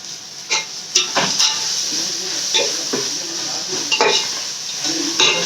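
A single tomato stirred and sautéed in a pan, bright hissing sizzle with scattered scraping and clinking of a spoon on metal, close and fairly loud.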